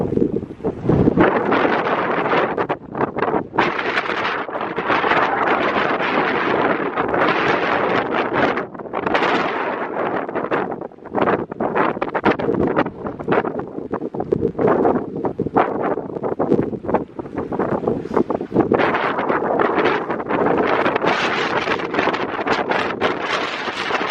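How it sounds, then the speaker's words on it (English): Strong, gusty wind roars steadily across a mountain lake in Rocky Mountain National Park's Wild Basin, buffeting the microphone with loud, rumbling blasts that rise and fall without a break; no one speaks. "And yes, it's insanely windy."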